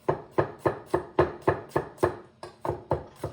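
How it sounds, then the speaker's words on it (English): Garlic being chopped finely with a knife on a board, about a dozen crisp, close, evenly spaced knocks in a steady rhythm, with no talk. "I've got some garlic that I'm gonna chop up nice and fine"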